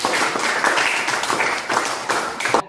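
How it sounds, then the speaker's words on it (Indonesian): A class gives group 2 a round of applause, with a busy, continuous patter of many hands clapping at close range for a few seconds and no talk over it. "kita semua berikan aplaus."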